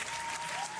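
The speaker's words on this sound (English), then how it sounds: "You get a roaring round of applause for that, Rob." A brief burst of dense crowd applause, a continuous roaring patter of many hands at even loudness for under a second.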